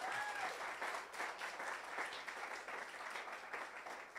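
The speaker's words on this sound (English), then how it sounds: "Can you give them a round of applause?" An audience at a school heads forum breaks into applause, a continuous patter of many hands clapping at close range, fairly even in loudness for a few seconds.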